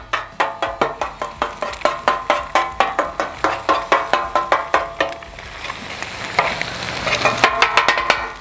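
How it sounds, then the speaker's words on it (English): Rapid rhythmic metal spatula chopping strikes on a Blackstone flat-top griddle while hibachi-style food sizzles, steady clacks at first, then looser scraping and stirring with frying underneath. "I'm just going to chop these up real good."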